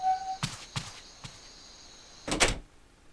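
An apartment door opening in the game 999: several quick mechanical clunks and a latch rattle, followed by a louder sliding thud, close and clean against quiet.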